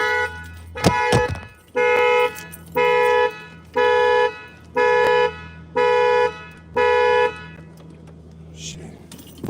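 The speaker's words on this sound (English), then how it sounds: "Damn, that my alarm is loud." A car alarm blares loudly and close by in regular pulsing bursts, about six evenly spaced honks after a sharp startling clatter at the start.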